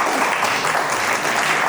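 An audience at a closing ceremony of an education conference claps together, a loud, dense and continuous round of applause with no pauses.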